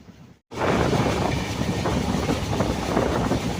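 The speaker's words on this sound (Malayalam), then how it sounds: "അപ്പോൾ നമ്മുടെ വണ്ടി 72 km/h സ്പീഡിലാണ് തൃശ്ശൂർ ഭാഗത്തോട്ട് പോയിക്കൊണ്ടിരിക്കുന്നത്." From on board, the Ernakulam–Madgaon SF Express runs at about 72 km/h toward Thrissur. After a brief quiet moment it sets up a loud, steady rumble with rattling carriages, and no one speaks.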